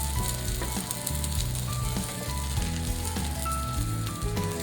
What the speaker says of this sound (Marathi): या तव्यावरती मी तूप आहे हे तूप टाकायचं आहे आणि नंतर आपल्याला पराठा याच्यावर टाकून द्यायचा